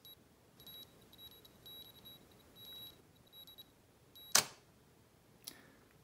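A Rollei cable remote shutter release timer emits a quiet series of short, high electronic beeps, pulsing steadily for a few seconds, then stops; a sharp mechanical camera shutter click follows, with a softer one shortly after.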